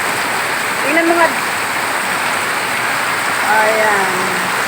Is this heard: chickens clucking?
no